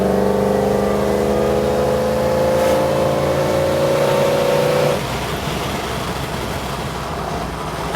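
A boosted Holden Kingswood accelerates hard with a loud, close engine note that climbs steadily in pitch for about five seconds. It then gives way to a rough, broad rushing roar.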